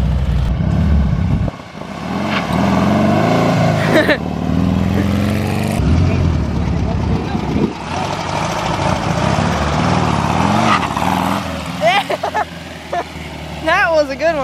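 A drag car engine with wheelie bars roars and revs hard, loud and close, surging and dropping as it lifts into a wheelie, with people talking over the engine noise.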